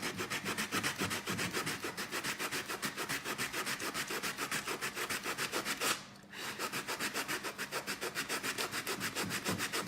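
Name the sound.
sanding a protruding piece by hand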